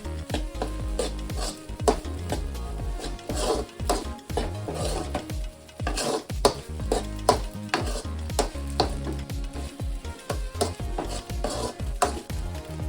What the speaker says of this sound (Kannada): ವೈಟ್ ರೈಸ್ ಸಮೇತ ಇದನ್ನು ನಾವು ಸ್ವಲ್ಪ ಲೋ ಫ್ಲೇಮಲ್ಲಿ ಫ್ರೈ ಮಾಡ್ಕೋಬೇಕಾಗತ್ತೆ.